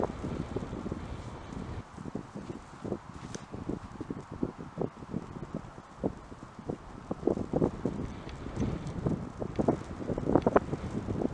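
Wind gusts across an open disc golf course, buffeting the microphone in a steady low rumble with scattered soft knocks and rustles, growing slightly stronger toward the end; no one speaks.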